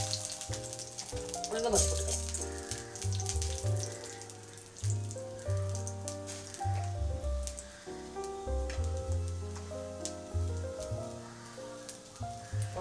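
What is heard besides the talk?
mustard seeds spluttering while tempering in hot oil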